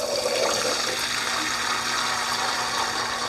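Water sloshes and pours steadily into a pot of canned chickpeas, a continuous close-up liquid rush lasting a few seconds with no talking.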